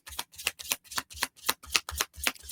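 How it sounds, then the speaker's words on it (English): Cards being riffle-shuffled in quick repeated bursts, about ten crisp fluttering riffles in steady rhythm, close and clear with no talking. "I'm going to shuffle."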